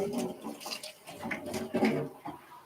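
Water splashes and pours while coffee brewing gear is rinsed, an uneven gurgling wash that rises and falls close by with no talk.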